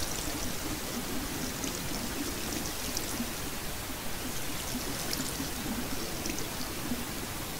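Steady splashing water pours continuously as magical crops are watered in the Avian Skies video game, a constant close wash of sound without pauses.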